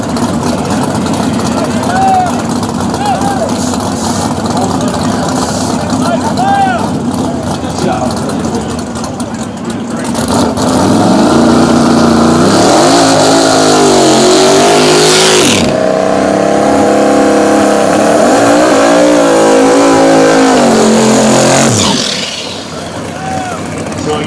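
A 1961 Ford Falcon and a small block Ford Mustang on the drag strip at KD Dragway in Ohio, engines loudly idling and then revving in rising and falling pulses, with an announcer talking over them.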